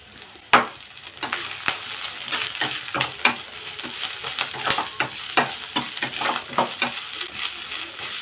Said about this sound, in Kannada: ಇದನ್ನು ಎಣ್ಣೆಯಲ್ಲಿ ಚೆನ್ನಾಗಿ ಫ್ರೈ ಮಾಡಬೇಕು